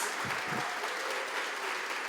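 A church congregation claps together, a close, steady wash of many hands clapping continuously through a short stretch.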